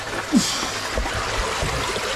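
Creek water flows steadily during a creek crossing inside a cave that fills with water, a continuous close rushing with light splashes and gurgles.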